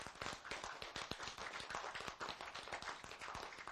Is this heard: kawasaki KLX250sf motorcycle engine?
no